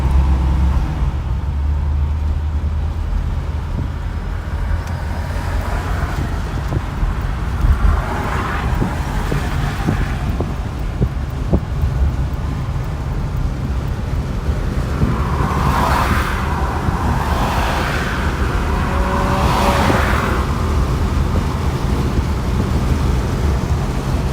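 A 1949 Cadillac accelerating on the road, its engine a steady low drone heard from inside with wind and road rush swelling in repeated waves as speed builds, no talk.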